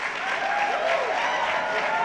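Audience applause for panelist Tim at a new media panel discussion, a dense, steady wash of clapping with scattered voices and whoops mixed in, filling the whole stretch at even loudness.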